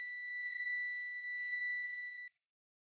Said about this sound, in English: A beeping sound indicates that it has exceeded 60 A.